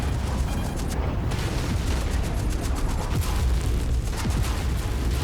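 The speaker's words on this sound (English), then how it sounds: "That was a big explosion." A large explosion in the mech combat game MechWarrior 5 rumbles as a dense, continuous roar of booms and crackling debris, loud and sustained throughout, with no voices over it.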